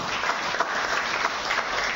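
Audience clapping at an Indonesian political gathering, a dense, even wash of many hands applauding for two seconds without a break.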